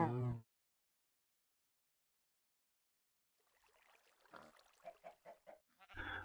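Chickens and rabbits on a video game farm: after a short silence, a faint run of clucking and bleating-like animal calls rises and repeats in quick bursts.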